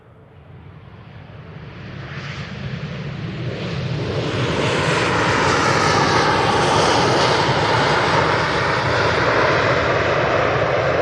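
A passenger plane arriving from Belfast on its landing approach at Manchester Airport, its engine roar building from a distant rumble to a loud, sustained broadband rush that holds steady through the end.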